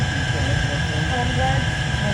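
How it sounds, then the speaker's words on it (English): An airport plane train runs between concourse B and domestic baggage claim, with a steady rumbling hum and continuous ride noise throughout and a faint tone over it. "This train is departing."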